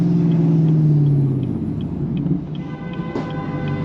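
A car roars on a city street at night, a loud deep engine rumble that drops in pitch during the first second, then settles into a steady low drone heard from inside a moving vehicle.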